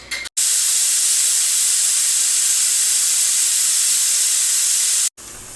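A pressure cooker whistle: a loud, sustained high-pitched hiss of venting steam while cooking lamb thukpa soup, starting abruptly and cutting off sharply after about five seconds.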